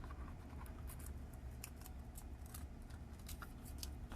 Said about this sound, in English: I'm going to go ahead and peel this off so you guys can see what it looks like